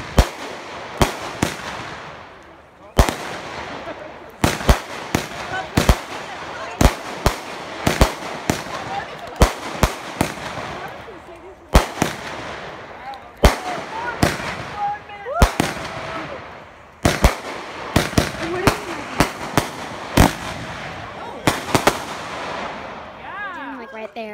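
Fireworks and firecrackers burst on a street on New Year's Eve in a rapid, irregular series of sharp cracks and pops, some loud and close, with crackling between them and brief voices underneath.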